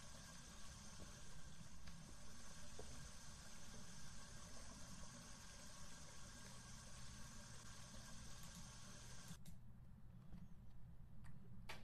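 A clock ticks steadily inside a quiet, eerie house in the ghost-hunting game Phasmophobia, its faint regular ticks sounding under a low constant hum.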